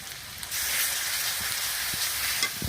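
Onion and garlic paste dropped into hot fish-frying oil for a fish curry, bursting into a loud, continuous hiss of sizzling, close by and alone after a quiet start, with a few faint clinks of a utensil.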